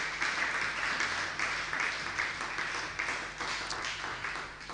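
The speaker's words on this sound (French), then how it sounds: "On peut acclamer le Seigneur." A church congregation applauds in praise during a sermon, a dense, steady wash of many hands clapping that stays loud and continuous throughout.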